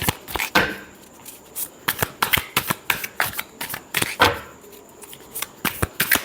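Tarot cards are shuffled by hand in a quiet room, a rapid series of crisp riffling bursts and soft slaps repeating irregularly, close and clear with no talking.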